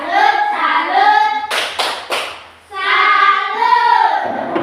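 A classroom of pupils chants a cheer together, and three sharp, loud hand claps land in a quick rhythmic burst midway between stretches of group chanting.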